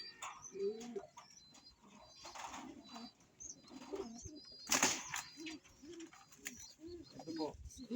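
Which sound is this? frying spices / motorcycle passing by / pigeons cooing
pigeons cooing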